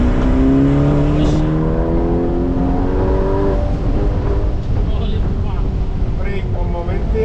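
A Ferrari Performante launches from a standstill, its engine note climbing steadily through the revs, loud and close from inside the cabin, while people talk excitedly over it.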